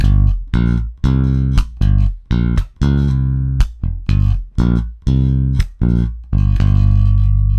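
Loud electric guitar riff with a gritty tone, a punchy rhythmic pattern of short chopped notes building into a sustained ringing chord at the end.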